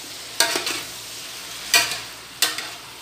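Sinigang fish soup with radish being stirred in a cooking pot, three separate bursts of scraping and clattering stirring, each about half a second long, close and moderately loud, with quiet gaps between them.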